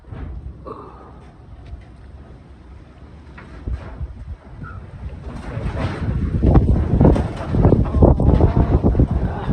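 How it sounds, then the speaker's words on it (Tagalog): Strong wind buffets the microphone in rough, rumbling gusts that build louder toward the end, with no voices. "Lakas ng hangin."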